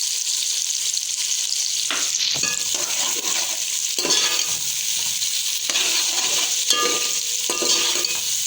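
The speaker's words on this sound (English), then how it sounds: "Now we will fry the onions." Onions and red chilies fry in hot oil in a pan for a bottle gourd bhujia, giving a loud continuous sizzle broken by several scraping stir strokes and light utensil clinks, with no talking.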